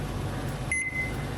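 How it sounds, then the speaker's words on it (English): A kitchen timer gives a short electronic beep as it is set for a steak, potato and bell pepper dinner, one brief tone standing out over a steady kitchen background hum. "I'm just gonna set my timer here for 50 minutes"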